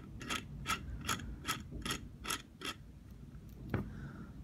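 Repeated ratcheting clicks as an air compressor hose fitting is screwed onto a new HVLP mini spray gun, about eight evenly spaced mechanical ticks close by, followed by a sharper single click.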